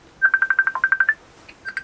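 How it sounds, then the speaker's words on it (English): A phone rings for an incoming call as a loud, close electronic trill, a rapid burst of about ten pulses followed by a short pause and the start of another burst, with no one talking. "I'm getting a phone call, so I'll just stop that for a moment."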